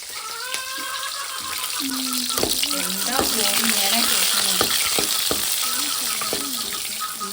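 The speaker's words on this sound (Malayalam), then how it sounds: "കടുക് പൊട്ടി വന്നു ഇനി പച്ചമുളക് ഇട്ട് കൊടുക്കുന്നുണ്ട്" Green chilies dropped into hot oil where mustard seeds are already popping, giving a steady close sizzle with scattered sharp crackles and spatters throughout, plus occasional clinks of a utensil.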